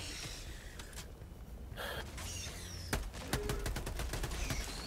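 Gunfire from the video game Helldivers 2 plays against a busy battle backdrop, with scattered sharp shots and short bursts in the second half.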